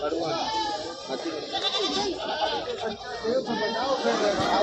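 Goats bleat repeatedly amid the busy hubbub of a rural livestock market in Etawah, with overlapping animal calls and people talking throughout the crowded scene.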